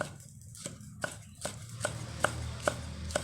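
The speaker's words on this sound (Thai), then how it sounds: "หั่นไปครับผม นี่ครับพริกเสร็จกระเทียม หั่นไป ไปครับผมกระเทียม" A kitchen knife chops chili and garlic on a board while preparing a Thai cucumber salad with grilled pork. About eight sharp, close taps come at a steady rhythm and grow slightly louder toward the end.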